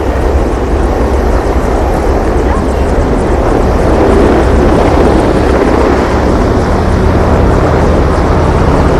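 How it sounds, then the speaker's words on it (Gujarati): Loud, constant roar of a helicopter close by, a dense rotor and engine wash with wind buffeting and no pause. "હેલિકોપ્ટર"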